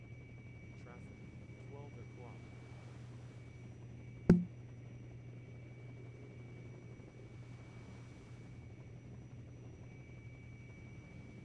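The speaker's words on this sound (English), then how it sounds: "Tandem chopper flying" A tandem-rotor helicopter flying in the Second Life game over the Blake Sea coastline gives a faint, steady low drone throughout, broken once by a single sharp click.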